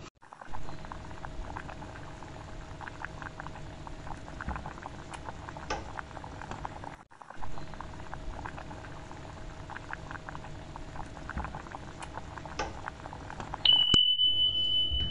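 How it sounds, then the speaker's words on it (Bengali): Cashews and small onions boil in a pot of water, a steady close bubbling and popping that runs on with one brief break, ending in a faint high electronic tone, with no speech. "এই পেঁয়াজের অংশটা দিয়ে এটাকে খুব ভালো করে প্রথমে আমি এটাকে ফুটিয়ে নেব"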